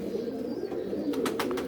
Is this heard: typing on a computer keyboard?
no